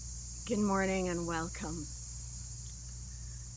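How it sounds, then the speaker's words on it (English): A steady high-pitched insect drone, like cicadas, fills the background throughout while a person speaks briefly in the foreground. "I wonder if you can hear the cicadas singing behind us."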